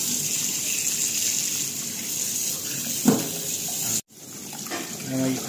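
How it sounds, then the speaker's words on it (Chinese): Tap water runs steadily over a whole marinated chicken in a sink, rinsing the salt off, a continuous close gush with a brief splash and a short break before the flow resumes. "把这盐呢冲掉"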